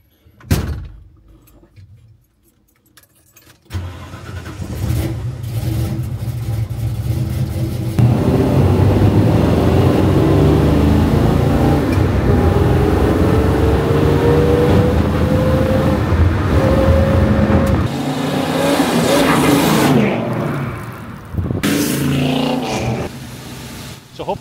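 A 1970 Ford Mustang SportsRoof starts and drives: a steady, loud engine roar runs from about four seconds on, its pitch rising through the gears, then eases off near the end, with door-like clunks at the start and finish.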